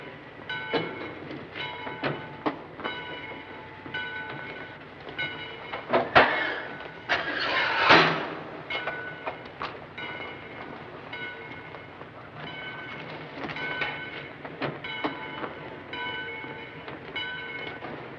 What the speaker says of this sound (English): Get in the train, Kelly.